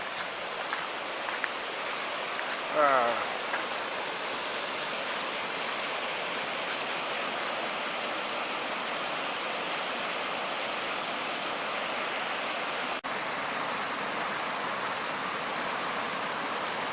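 Water rushing over a park dam after four days of rain, a loud, steady broadband roar filling the whole stretch with a few faint footsteps or scuffs near the start.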